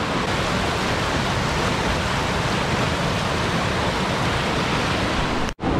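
Aira Force waterfall in the Lake District roars as a loud, steady broadband rush of falling water, continuous and close throughout, with a brief dropout just before the end.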